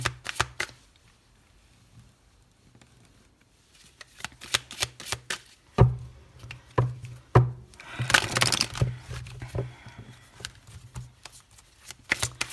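A tarot card deck is shuffled and cut by hand in a series of quick papery riffles and taps, with a burst of dense shuffling in the middle and scattered sharp clicks, close and fairly quiet, with no talking.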